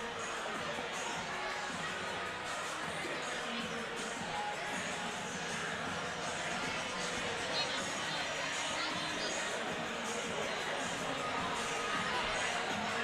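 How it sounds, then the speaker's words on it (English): A packed crowd fills the gym at a high school boys basketball game between Jacksonville and Lufkin, a steady dense roar of chatter, shouts and cheering that holds at the same level throughout. "A great crowd on both sides."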